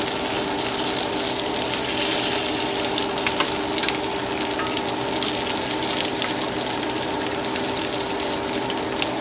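Onions and flank steak sizzle in a pan on an electric stove, a dense, steady crackling fry that stays loud and continuous throughout with small pops scattered across it and no voices.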